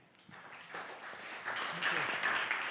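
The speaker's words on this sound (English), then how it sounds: "could you give a round of applause to Seb, Julia, Matt, and Gideon" An audience at an event starts clapping sparsely, then the applause swells into a steady, moderately faint round that keeps building toward the end.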